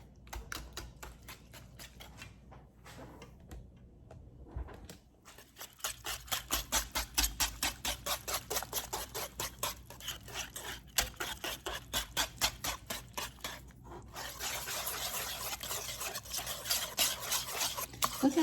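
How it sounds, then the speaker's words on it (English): A whisk clatters briskly against a bowl as eggs are beaten into a sweet potato pie filling; after a few quiet, tentative strokes it settles into fast, steady rhythmic beating, close up, with no voices. "Now we're gonna whisk this. Whisk in those beautiful eggs."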